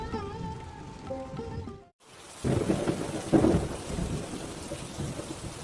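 Steady rainfall pours down with a rumble of thunder, after a brief silence; no voices, just a dense wash of rain close by.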